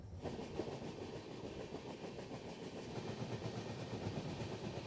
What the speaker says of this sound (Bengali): এইমাত্র উড়িষ্যা রাজ্যের ব্রহ্মপুর স্টেশন আমাদের ট্রেন ছাড়লো।